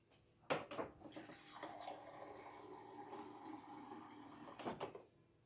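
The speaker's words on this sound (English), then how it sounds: "So we're gonna add some water." Water poured into a container for a homemade cough drink, a steady splashing pour lasting about four seconds between two louder bursts at the start and end, close and alone with no talk.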